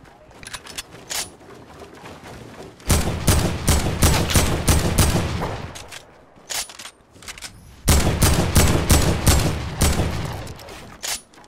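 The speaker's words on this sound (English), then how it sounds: "Oh, we're getting sniped out somewhere." Gunfire in a multiplayer shooter, loud rapid volleys of sharp shots in two long bursts with scattered single cracks between them, close and dominant over faint background voices.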